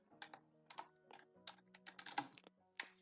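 Typing on a computer keyboard while writing Python code, quick clusters of light clicking keystrokes in an irregular rhythm, close and quiet.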